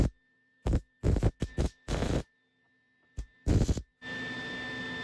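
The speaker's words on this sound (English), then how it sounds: "I'm gonna try to weld it in the corners. I'm gonna put 4 tacks there" Four short bursts of MIG welding tacks on the top corners of a 1966 Triumph GT6 car door, crackling sharply in separate spurts with pauses between, ending in a steadier hiss, no talking over it.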